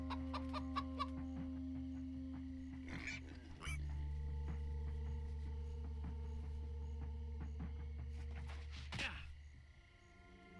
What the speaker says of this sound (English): Nope, just an evil chicken.